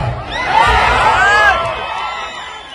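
A large crowd shouts and cheers loudly, the roar swelling and then easing off.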